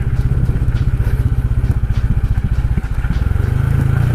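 A Honda Wave 125i motorcycle labors down a rocky mountain road, its engine thumping loudly and rhythmically up close with rattling clatter from the rough surface, pitch rising slightly near the end.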